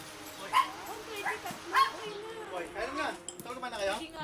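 A dog gives a few short barks and yips nearby, mixed with people talking and a light clink of dishes.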